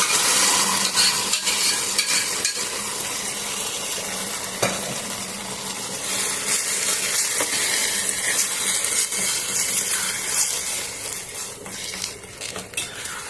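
Okra fritters (bendakaya bajji) fry in oil with a dense, continuous sizzle, joined by frequent metal clinks and scrapes of a utensil against the pan.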